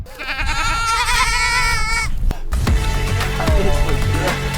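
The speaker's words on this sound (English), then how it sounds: "They found one goat, and then all his friends showed up." Several goats bleat loudly and close by in a harmonic, wavering chorus, followed by more scattered bleats over rustling and outdoor noise.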